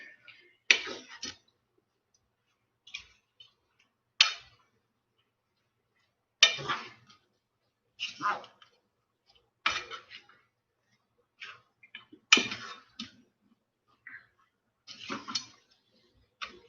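Fried cabbage is stirred in a pan, giving short separate bursts of scraping and clattering at an uneven rhythm with near silence between strokes, fairly close and with no talking.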